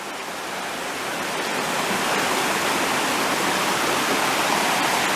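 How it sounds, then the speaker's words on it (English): Laurel Prong Creek in Shenandoah National Park rushes steadily downstream near Camp Hoover, a continuous broadband water roar that swells slightly and holds loud and close throughout, with no voices. "over here on this side is Laurel Prong Creek coming down"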